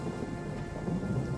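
Rain and thunder in the video game Total War: Three Kingdoms, a dense steady rain hiss over a low rolling thunder rumble, fairly loud and continuous with no voices.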